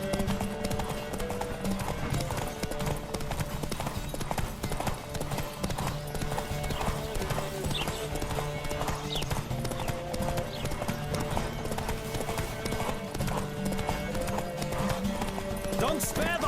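A horse gallops flat out in a race in the video game The Witcher 3: Wild Hunt, rapid rhythmic hoofbeats over game music, with a rider's voice calling out alongside.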